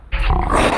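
Several children's voices imitate a sneaky bear's growl together, giving one short, rough, low rumble that swells quickly and holds for under a second.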